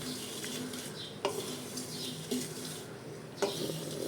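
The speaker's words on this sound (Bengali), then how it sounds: "একটু ভেজে নিচ্ছি ব্লেন্ড করার সুবিধার্থে।" Spice mix for sweet fishing bait being dry-fried and stirred in a pan: a steady low sizzle with a few clinks of the spoon against the pan, close and moderately quiet, with no voices.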